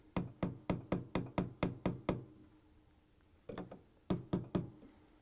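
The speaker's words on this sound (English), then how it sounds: "I'm using a 3/4" socket head and a mallet to punch them on." A mallet taps a 3/4-inch socket to press gears onto a Whirlpool/KitchenAid/Maytag gearcase. A quick run of eight even knocks comes first, then a pause, then another cluster of six close, firm taps.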